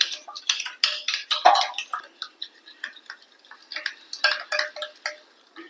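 Spoon stirring sugar into an egg mixture in a bowl, producing a run of quick light metallic clinks and scrapes against the sides, close and fairly clear with no talk.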